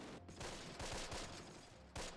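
Dense gunfire in the World War II strategy game Close Combat: Wacht Am Rhein, rapid overlapping shots and bursts rolling continuously at a fairly low level.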